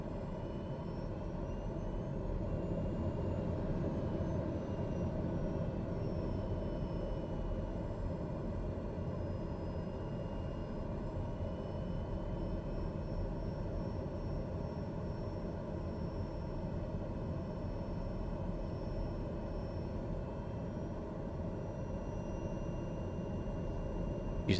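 Daher TBM 930 turboprop taxiing in Microsoft Flight Simulator, a steady droning engine hum with a faint high whine, constant and even throughout with no voices.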